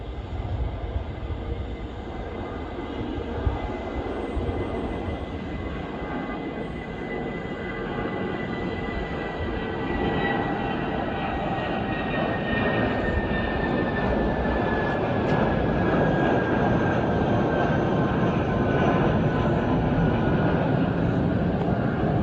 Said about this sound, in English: Here we have British Airways Airbus A319 to Aberdeen taking off